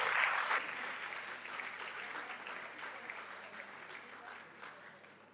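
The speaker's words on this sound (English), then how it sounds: "Shall we give a clap of it to God for them?" An audience applauds at a girls' senior high school summer camp forum: dense, steady clapping from many hands, loudest at the start, then holding at a fairly even level before easing slightly toward the end.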